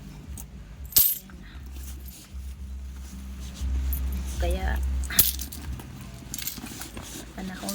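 Loose coins clink and jingle as a hand rummages through a bag for change, giving a sharp rattle followed by scattered, faint metallic clicks beneath quiet talking.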